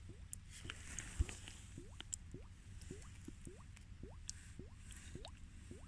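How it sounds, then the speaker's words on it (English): Gas bubbles rising through a hole in winter lake ice, a quiet run of small wet pops and blips coming every half second or so in a loose, irregular rhythm, close and faint. "You can hear the bubble popping."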